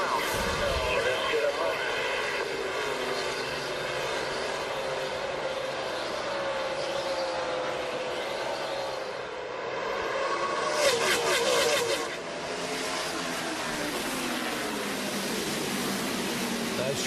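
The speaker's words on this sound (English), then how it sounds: "We're going to watch and listen as Jeff Gordon and Dale Earnhardt Jr. come down and take the green flag" NASCAR stock cars, Chevrolets among them, roar past on a green-flag restart at the 2007 Chevy Rock & Roll 400, a dense sustained engine drone with a louder surge near the end, under continuous race commentary.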